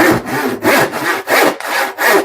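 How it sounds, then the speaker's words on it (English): A scroll saw cuts through wood in steady, rhythmic bursts, with about four loud rasping strokes close up and no voices. "I'm gonna cut it out on my scroll saw."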